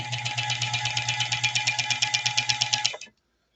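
An old sewing machine running dry and unoiled, a steady mechanical whir with a rapid, regular ticking clatter that runs evenly for about three seconds and then stops abruptly.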